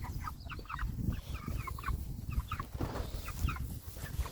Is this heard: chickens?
yes